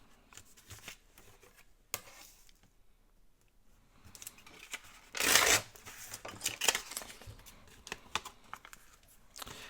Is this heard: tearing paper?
yes